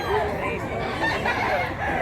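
A rooster on a Filipino farm crows loudly and close by, with a sustained cock-a-doodle-doo and some clucking from the fowl, over a busy background.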